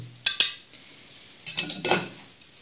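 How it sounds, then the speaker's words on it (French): A utensil clinks and scrapes against a bowl while egg, milk, light cream and parsley filling for an onion tart is mixed, two quick taps and then a short burst of whisking strokes, close and alone. "on mélange un petit peu"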